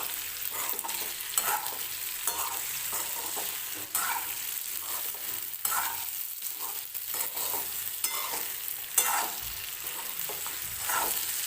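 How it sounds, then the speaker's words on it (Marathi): Stuffed okra coated in masala (bharli bhendi) gently stirred in a frying pan: a continuous close sizzle broken by soft, irregular scraping and tossing strokes, with no voices. "सगळी भेंडी मी टाकून घेतलेली आहे. आता व्यवस्थित मिक्स करून घेते."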